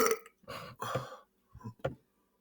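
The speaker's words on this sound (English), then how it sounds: "Or do you like my burps?" Loud belches from someone eating sandwiches and boiled eggs, several close, rough bursts in quick succession with short gaps between them.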